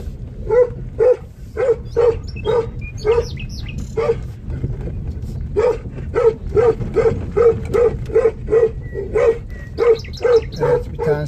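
Village dogs in Kızılcaali, Çatalca, Istanbul, keep up a long run of steady, rhythmic barking, loud and close, with a brief lull midway and faint birdsong around it.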